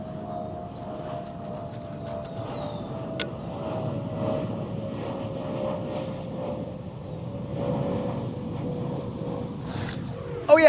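A propeller airplane drones overhead at a distance, a steady low hum with a sustained tone that lingers throughout, fairly faint, with a few small nearby clicks and knocks.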